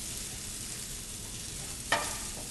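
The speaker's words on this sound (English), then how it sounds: "You can see that garlic and everything's browning really nicely." Garlic and vegetables browning in a pan with a steady close sizzle and one brief scrape of stirring partway through.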